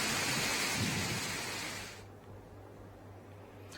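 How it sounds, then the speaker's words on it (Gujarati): Heavy monsoon rain in rural Bhavnagar, Saurashtra, roars loudly as a dense wash with a low rumble of thunder beneath, then drops to a quieter, thinner patter after about two seconds. "વરસાદ વરસી રહ્યો છે"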